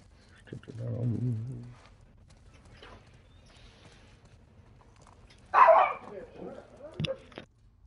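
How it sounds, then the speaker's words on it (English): A pet dog barks a few times nearby at a gaming setup, sharp loud yelps after a stretch of quiet, with someone talking before the barks. "That was my wife's dog"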